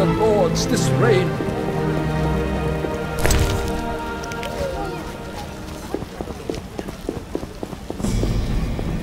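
Steady rain patters on surfaces in The Witcher Enhanced Edition, forming a continuous wet hiss throughout, with a voice briefly speaking over it.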